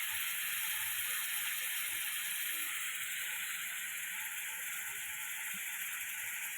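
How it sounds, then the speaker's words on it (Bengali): Red amaranth leaves fry with shrimp in a pan, giving a continuous, even sizzling hiss that stays steady and fairly close the whole time, with faint clinks beneath. "এখন একটু নেড়ে চেড়ে ভেজে নিচ্ছি।"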